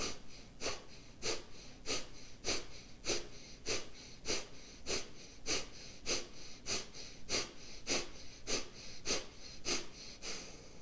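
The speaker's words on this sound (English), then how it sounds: "Sharp exhale, it's a noisy kind of breathing technique." A yoga practitioner does a rapid, noisy breathing technique of sharp forceful exhales. About sixteen evenly spaced, breathy puffs repeat close to the microphone in a steady rhythm, with no talking.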